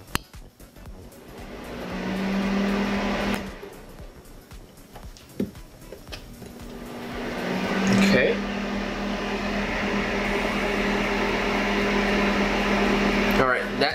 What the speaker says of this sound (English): So let me increase the fan now, and let's turn it on.